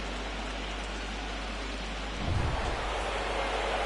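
Steady rain falls over the open baseball stadium during the 1988 AL Division Series Game 5 between Oakland and the Blue Jays in Toronto, a continuous broadband hiss with a low rumble and a slight swell partway through.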